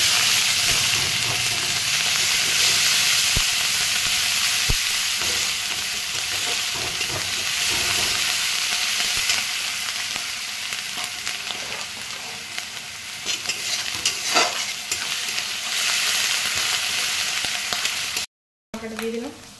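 Garlic paste and then onion paste hit hot oil in a pan for a steady, loud, close sizzle with stirring scrapes, used for a thin rohu fish and pointed gourd curry; a brief silent gap comes near the end.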